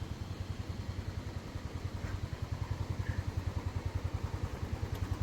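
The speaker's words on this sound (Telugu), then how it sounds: "ఇట్లా వెళ్తాయి బైక్స్." A Bullet motorcycle passing by on a road, its single-cylinder engine thumping in a fast, even rhythm, moderately close and heard on its own.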